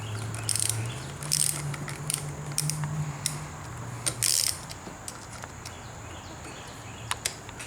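A Torx bit on a ratchet loosens the hand grip screws on a 2022 Harley-Davidson Street Glide Special, giving faint, close ratcheting clicks in short irregular runs.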